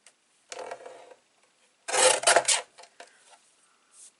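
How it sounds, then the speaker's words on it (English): A small strip of paper is trimmed for a vintage baby girl album, giving two short, close, dry scraping bursts, the second louder and longer, with faint rustles between them in an otherwise quiet room. "And then I can trim this little piece off here."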